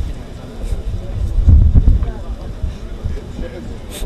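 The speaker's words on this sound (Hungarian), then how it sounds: "nagyon erős a szél" Strong wind buffets the microphone at an outdoor football match, producing low rumbling gusts that swell to a peak midway, heard under a commentator's voice.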